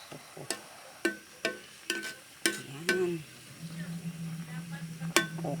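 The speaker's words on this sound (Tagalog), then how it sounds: "haluin na lang natin yan siya guys na ilang minuto para maluto yung kangkong" A spoon clinks and scrapes against a pot while kangkong is stirred into sinigang shrimp soup, a series of sharp metallic knocks at irregular intervals over a faint simmer, with a short low hum.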